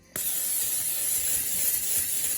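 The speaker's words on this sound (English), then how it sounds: "So we're gonna go ahead and take our cooking spray" A sudden, steady hiss of cooking spray from an aerosol can into a bowl, close and continuous for about two seconds without pause.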